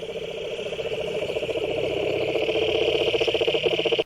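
A frog croaks in a fast, steady pulsing rhythm for several seconds, close and clear, with a high insect-like hum running underneath.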